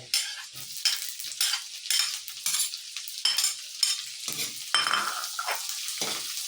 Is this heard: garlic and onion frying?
yes